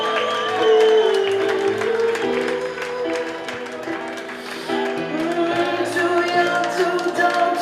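An audience at a regional beauty pageant final in Italy applauds a contestant, a lively clapping crowd heard beneath loud, sustained background music.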